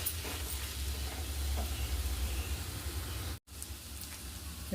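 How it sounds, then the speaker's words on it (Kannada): Raw mango and cooked onions are mixed in a pan over a soft, steady frying hiss, with a few faint stirring scrapes. The sound is fairly quiet, with a brief dropout near the end. "ಚೆನ್ನಾಗಿ ಈರುಳ್ಳಿ ಎಲ್ಲ ಬೆಂದಿದ ಮೇಲೆ ಇದನ್ನೆಲ್ಲ ಮಿಕ್ಸ್ ಮಾಡ್ಕೋಬೇಕು."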